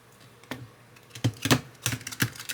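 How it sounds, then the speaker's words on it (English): Oracle card deck riffle shuffled by hand, a string of crisp papery clicks and flutters in a few short bursts, close and fairly quiet with no talking. "Now let's see if they'll do the riffle shuffle."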